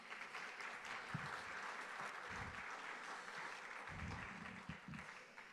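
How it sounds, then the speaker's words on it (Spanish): An audience at a legislative book presentation gives a steady round of applause, fairly faint and continuous, with a few low thumps and bumps mixed in. "a los papás de nuestro amigo Jesús Ibarra, a quien les pido un fuerte aplauso, por favor."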